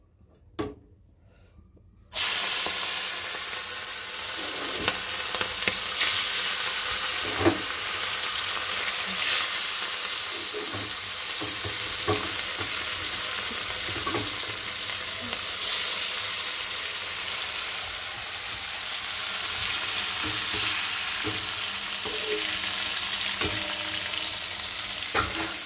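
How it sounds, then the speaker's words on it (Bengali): Fish pieces coated with salt and turmeric fry in hot oil in a kadai, a loud, continuous sizzle with scattered sharp pops that starts abruptly after a couple of seconds of quiet. "তো মাছটা এবার তাড়াতাড়ি করে ভেজে ফেলবো, তেলটা গরম হয়ে গেলে"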